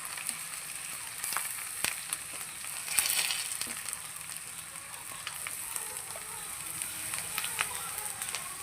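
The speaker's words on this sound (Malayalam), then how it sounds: "അപ്പം നമ്മൾ തേങ്ങ വറക്കാൻ വേണ്ടിയിട്ട് ചട്ടിയിലേക്ക് ഇട്ടിട്ടുണ്ട്" Grated coconut and dried chili roasting in a pan for a soybean curry, giving a steady, fairly soft sizzle and crackle with faint scraping, heard close up with no one talking over it.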